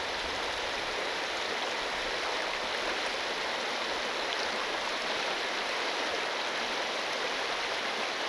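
A river in Jamaica rushes steadily, its loud, continuous broadband wash of flowing water heard up close with no breaks and no voices.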